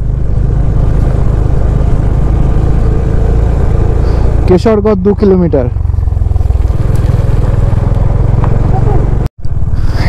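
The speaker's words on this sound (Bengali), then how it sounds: "মধ্যখান দিয়ে আমরা 4টে বাইক।" Four motorcycles ride along a paved road through dense forest in Purulia, their engines a steady low drone throughout. A person talks over the engine noise, and a brief burst of tonal sound comes partway through.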